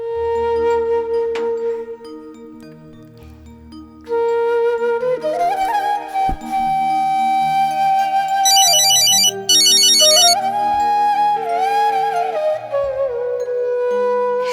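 A phone ringtone plays loudly and close, a melodic electronic tune with shifting sustained tones and bright chiming runs that repeats for several seconds with no talking.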